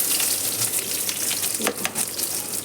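Onions and green chillies frying in hot oil for fish curry, a loud continuous sizzle close by with a couple of stirring scrapes.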